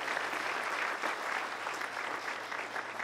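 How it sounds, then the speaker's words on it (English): Dense, sustained applause from a crowd at an outdoor church service welcoming newcomers, an even wash of many hands clapping throughout. "Why don't you give a round of applause for all the new people who are here with us this morning."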